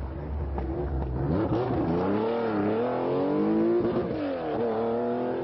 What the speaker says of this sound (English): the raucous Porsche